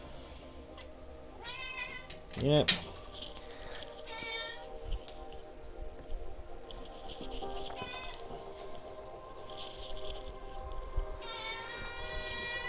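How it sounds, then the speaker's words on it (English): A pet cat meows repeatedly nearby, several short and drawn-out cries scattered through the clip, with one louder burst early on; a voice speaks briefly and quietly. "I'm just going to release my cat. I can hear him meeping at me."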